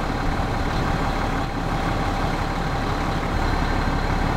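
A John Deere 7200 tractor engine idles in Farming Simulator 2017, a steady low rumble that holds even and unbroken throughout with no voices.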